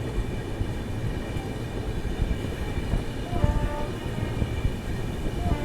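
AP Express passenger train hauled by a WAP-7 electric locomotive, heard from a coach in the middle of the train: a steady rumbling roll with wheel noise and faint tonal hums, continuous and fairly loud with no talking.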